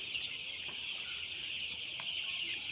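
Chickens on a poultry farm cluck in a dense, continuous flock chorus, quiet and somewhat distant, with a few sharper calls standing out now and then.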